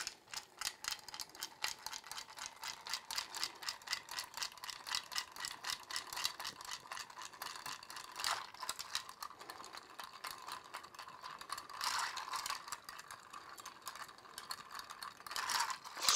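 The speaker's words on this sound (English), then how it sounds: "Stir until the outside of the glass is frosted" Ice is stirred in a glass for a Bamboo cocktail, giving a steady, quiet, fast rattling clatter of cubes against the glass that continues evenly throughout, with a few slightly louder knocks.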